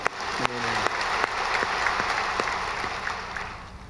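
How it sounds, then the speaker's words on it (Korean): A church congregation applauds steadily during a Friday night service, many hands clapping together in a sustained, fairly loud burst with no talking. "하나님께 감사 박수하겠습니다"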